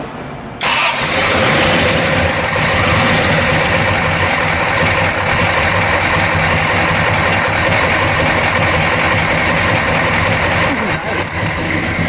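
A 1963 Ford Galaxie 500 with a 427 V8 idles steadily with its exhaust cutouts closed, a loud, continuous rumble from start to finish after a brief quiet opening, with a slight change near the end.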